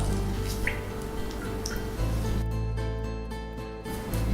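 Water drips and trickles steadily from squeezed, cooked cauliflower in a kitchen, with a continuous close, wet splattering and a few brighter individual drops.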